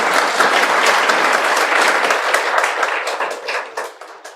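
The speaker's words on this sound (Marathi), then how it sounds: "आता बघा तुमच्या टाळ्या अजून वाढणार आहेत" Dense, loud applause from a large audience cheering a UPSC topper, a steady wash of many hands clapping together that holds for several seconds and then tapers slightly toward the end.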